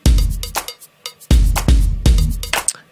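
A 90s club-style K-pop groove with organ bass, loud and punchy, with heavy repeating kick-and-bass hits and bright percussive accents in a steady dance rhythm.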